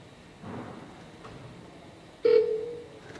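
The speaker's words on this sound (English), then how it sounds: "You can hear the audio feedback." Software on a vibration-measurement rig for a rotating three-bladed fan emits a short, clear electronic tone partway through, over a low steady lab hum with faint earlier noise.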